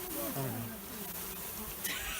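Honey bees buzz steadily while a package of bees is being installed into a hive, a close, continuous droning hum throughout, with a brief sharp hiss near the end like a spray bottle.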